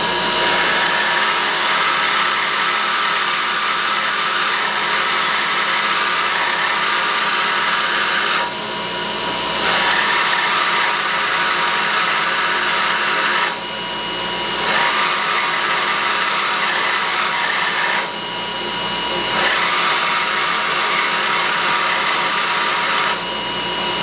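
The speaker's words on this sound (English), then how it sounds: "Let those cool down and do a little grinding." Grinding on machined steel parts for a milling attachment in a home machine shop: a loud, steady bench-grinder roar that runs continuously, dipping briefly three times as pieces are repositioned.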